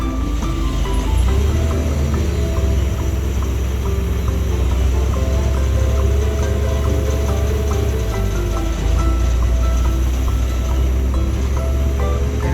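An excavator dumps its bucket load into a truck: a continuous loud, broadband rumble of spilling material over a running diesel engine, steady throughout.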